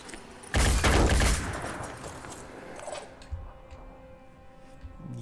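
In the Phoenix Point video game, a loud fusillade of gunfire bursts out close by for close to a second, then fades into a faint rumble followed by a few softer thuds.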